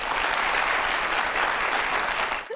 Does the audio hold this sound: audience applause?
yes